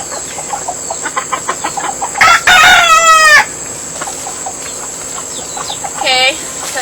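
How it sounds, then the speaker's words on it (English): Chickens cluck in short repeated bursts close by, while a rooster crows loudly twice, one long crow near the middle and a shorter one later. "let me just get some chickens over here"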